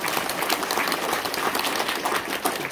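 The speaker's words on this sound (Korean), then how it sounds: "박수 한번 쳐주시기 바랍니다" A crowd at a provincial governor's public report meeting in Chungcheongbuk-do breaks into sustained, dense applause, an even wash of clapping with no voices over it.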